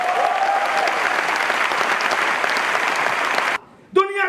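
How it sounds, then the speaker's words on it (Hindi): Loud, sustained applause from a large audience at an Amway diamond success celebration, dense and steady for several seconds before cutting off abruptly; a voice begins speaking right after. "इसलिए तालियां बजा सकते हैं जोरदार।"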